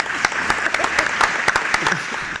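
Scattered audience applause with distinct individual claps rises at a community gathering, moderately loud and uneven over a couple of seconds, with some voices underneath.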